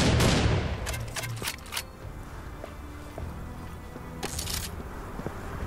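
Heavy gun fire in Serious Sam 4, a cluster of sharp shots early, then scattered quieter impacts and clanks, fairly close and without talk.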